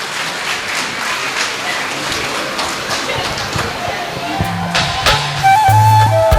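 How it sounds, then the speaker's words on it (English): Audience applause for a newly appointed primary school principal, scattered clapping under ongoing background chatter, with tonal beeps and a louder burst near the end. "Give her a big round of applause"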